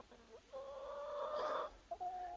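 Several chickens on a small farm cluck and murmur nearby in a steady, drawn-out chorus, with a short pause and then more clucking.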